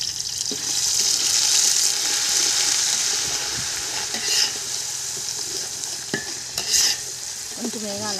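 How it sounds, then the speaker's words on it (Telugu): Onion paste for a country chicken curry fries in a pan over a wood fire, a steady sizzle broken by several scraping stirs from a ladle, loud and close with nobody speaking. "ఉల్లిపాయ కొంచెం కలర్ బ్రౌన్ కలర్ పెట్టడానికి వేగనియండి"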